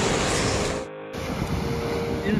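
Swelling sea surf breaks along the shore at night during surfcasting, a loud broad wash of water and wind close by with a brief dip before the roar resumes, and a faint voice in the background.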